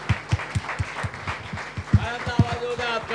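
A church congregation at a Sunday service claps in a steady rhythm of loud, evenly spaced beats, while a voice sings or speaks over the clapping toward the end.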